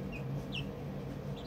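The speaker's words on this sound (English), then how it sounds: "Hey, little chickens." Young chickens in a small, warm cage area give short, soft clucks and brief high peeps, a few scattered calls close by over a low steady background hum.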